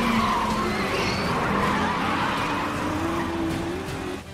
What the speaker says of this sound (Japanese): あれは理想的なドリフトなんだよ。